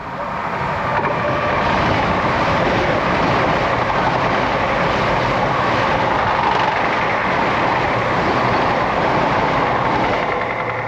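A passenger train rumbles steadily past at close range on the seaside line between Dawlish and Dawlish Warren, a loud continuous roar of wheels and carriages holding for the whole stretch with no voices.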